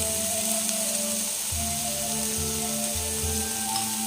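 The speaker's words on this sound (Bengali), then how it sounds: "এগুলো ভাজা হয়ে গেছে, গাজর, বিনস, কাঁচা লঙ্কা সব ভাজাভাজি হয়ে গেছে" Carrot, beans and green chilli fry in a pan with a steady, close sizzle and occasional stirring scrapes, over a faint tonal hum in the background.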